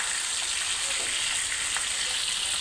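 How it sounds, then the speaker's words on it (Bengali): Rohu fish sizzles in oil in a pan, a steady close hiss of frying broken by a few light crackles, with no talk over it. "আর এক চুলাতে আমার মাছটা ভাজা কমপ্লিট হয়নি, মাছটা ভেজে নিচ্ছি।"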